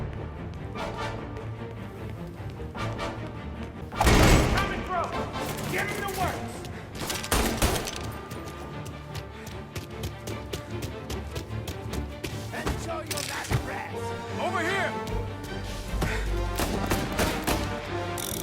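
Rattling Tommy gun fire in Mafia Definitive Edition inside an art gallery, dense repeated bursts with a loud spike early on, over game music and a voice talking throughout.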